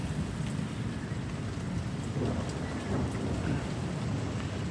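Steady heavy rain with low rumbling thunder at the tail end of a severe thunderstorm, a continuous broad wash of noise with swelling rolls, no voices.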